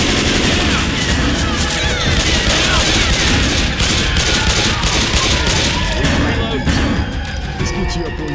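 Pipe bomb blast followed by dense, continuous gunfire and bursts in the zombie shooter game Left 4 Dead 2 in a shanty town swamp level, loud and unbroken throughout, with voices calling out over the shooting.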